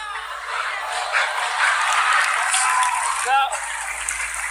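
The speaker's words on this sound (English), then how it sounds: "everyone's smiling and clapping except for Mel B" Audience at a magic act clapping and applauding, a dense continuous wash of claps that holds steady throughout, loud and close, with a voice speaking briefly over it.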